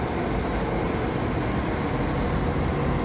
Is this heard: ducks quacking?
no